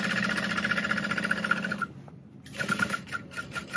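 A sewing machine stitches bag linings together for a mini backpack, a steady close whirring hum of rapid stitching that stops briefly and then resumes, with no talk.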